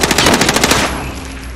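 Rapid automatic gunfire in the Call of Duty Warzone video game, a loud burst of about a dozen quick shots that ends after under a second and fades into a ringing tail.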